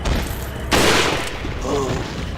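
Gunfire from the Resident Evil 4 video game cracks out as a short, loud burst, with someone talking before and after the shots.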